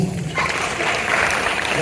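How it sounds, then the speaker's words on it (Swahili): Applause from an audience at a Maasai students' graduation ceremony in Arusha, a dense, steady wash of clapping and crowd noise filling the whole stretch at constant loudness. "Hebu jipigieni makofi."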